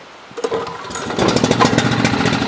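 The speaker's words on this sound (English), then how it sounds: "I bet that thing will start on the second pull" An old small engine, choked and pull-started as a storm approaches, sputters and catches after a few tugs, then settles into a loud, steady running roar close by.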